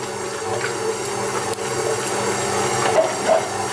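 A stand mixer kneads white bread dough with a steady, even motor hum and a soft churning drone that runs unbroken and close for the whole stretch. No one speaks.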